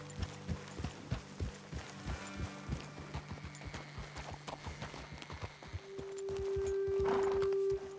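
Horse hooves clip-clop at an even walking pace in Red Dead Redemption 2, close and crisp, slowing and thinning out before a sustained tonal hum and a brief rustle at the end.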